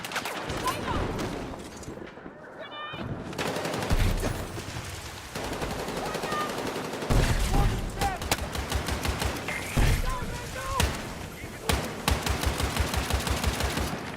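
Sustained gunfire fills a Battlefield video game match at the Grand Bazaar, with rapid machine-gun bursts and overlapping shots rattling continuously, loud and close, while a player's voice calls out over the shooting.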